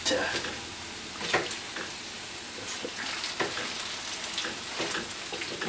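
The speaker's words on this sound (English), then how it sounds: "I'm not killing it on the frying this year." Oil sizzles and crackles steadily in a pan of frying latkes, with occasional louder spatters and pops, close and continuous with no talking.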